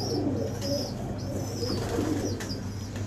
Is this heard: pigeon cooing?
yes